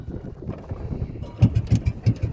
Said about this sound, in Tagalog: Pinapandar pa yung aming makina.